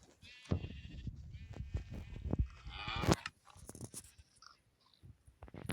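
Cows in the Minecraft video game moo and low in several short calls, mixed with other livestock-like bleats, fairly quiet and close, with scattered clicks and game noises and no talk.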